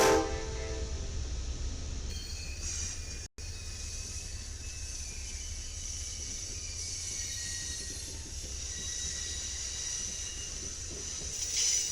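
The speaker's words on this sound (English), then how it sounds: "When the train reached Tower 26, it took the connector track to get onto the Houston sub" An Amtrak passenger train moves along the Houston subdivision near Tower 26, giving a steady, fairly distant rumble and hiss of rail cars with a horn-like tone early on, heard alone without talk.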